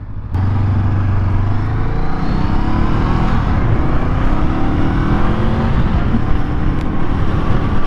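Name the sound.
Honda Scrambler SCL500 motorcycle accelerating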